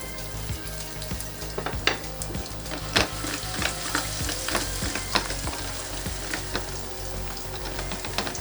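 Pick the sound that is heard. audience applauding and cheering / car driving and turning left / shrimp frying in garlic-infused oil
shrimp frying in garlic-infused oil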